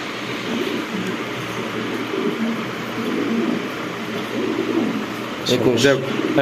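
Soft, low coos from imported male pigeons repeat over a busy background of voices and rustling at a pigeon farm, with a brief clatter near the end.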